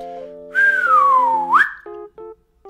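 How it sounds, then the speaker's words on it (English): A person whistles during a preschool music class: a long sliding tone that glides downward and then swoops up, followed by a few short, quieter whistled notes, heard clearly over faint background tones. "we're gonna try to whistle and get smaller"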